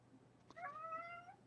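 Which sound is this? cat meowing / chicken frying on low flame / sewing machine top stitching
cat meowing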